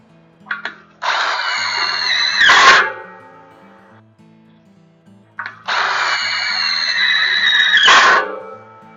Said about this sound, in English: fill the other holes with the self-drilling screws